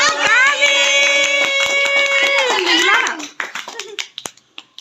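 Hands clap in a steady rhythm at a birthday party, close by, while a voice sings loudly over them. The clapping continues alone as a few scattered, uneven claps once the singing stops.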